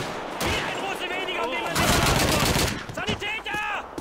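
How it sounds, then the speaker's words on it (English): MP40 submachine gun firing in Call of Duty 2, loud rapid automatic bursts mixed with other gunfire and battle noise, close and dense throughout, with a voice talking over it. "MP40 has so much recoil."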